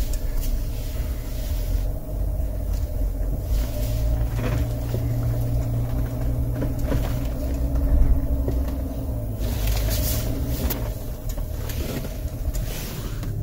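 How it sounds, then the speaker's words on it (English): An off-road vehicle creeping over rocks, heard as a continuous low rumbling drone with muffled knocks and creaks from the body as the wheels climb and settle. "See if I drive over this rocks here"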